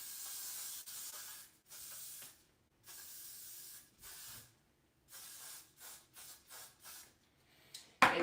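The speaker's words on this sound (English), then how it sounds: "So we'll spray a little bit of hairspray." Hairspray is sprayed onto a wig in repeated bursts, close and crisp, with several longer hisses followed by a run of short quick spritzes separated by brief silences.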